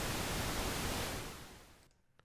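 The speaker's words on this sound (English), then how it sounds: "Let's switch to pink noise," Pink noise from a SynthMaster 3 software synthesizer's noise oscillator: a steady, full hiss weighted toward the low end, fading out near the end to near silence.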